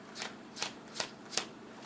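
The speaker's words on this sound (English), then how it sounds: "give me a moment while I deal through the cards" Playing cards are dealt through one after another in a card trick, four or five crisp, close flicks at an even, unhurried rhythm in a quiet room.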